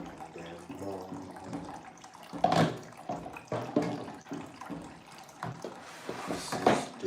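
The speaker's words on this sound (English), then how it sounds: "This is the way I wash my plates early in the morning." Running tap water splashes as plates are washed in a sink in the morning, an uneven, close spray and clatter heard beneath a voice singing along.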